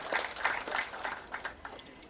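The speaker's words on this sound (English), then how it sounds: "a big round of applause" Audience applause at an inauguration event for Maharashtra's first semiconductor manufacturing facility, a soft, diffuse patter of clapping heard from a distance over two seconds, fairly faint and steady with no voices.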